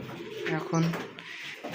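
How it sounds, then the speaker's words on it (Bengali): Pigeons coo in soft, throaty bursts close by, two or three low rolling calls over a muffled background. "এগুলো কবুতর আমাদের খাবার দেয়"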